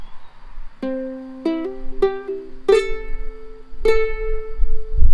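Ukulele playing the opening riff of a song, a handful of plucked notes with hammer-ons and two strings sounding together, clear and close with no voice.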